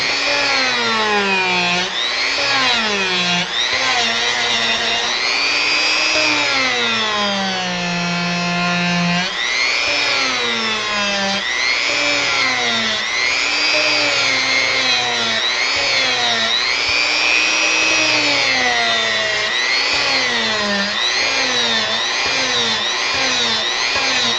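A high-revving power tool roughs out a carved model platform with dust extraction running, a loud continuous whine that rises and falls in pitch as the load changes, alone and close throughout.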